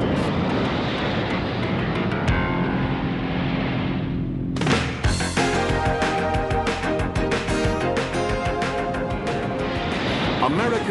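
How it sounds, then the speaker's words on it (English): A Grumman F-14 Tomcat jet roars steadily, then a loud sudden surge of engine noise takes over, with a narrator's voice running over the jet sound throughout. "the United States Navy relies almost entirely on one remarkable aircraft, the Grumman F-14 Tomcat."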